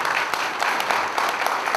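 A crowd at a press conference in Gwangju claps to welcome guests, a steady even patter of many hands that carries on without a break.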